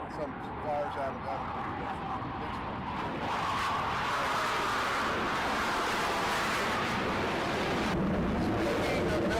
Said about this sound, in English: that was a T-45 out of Corpus.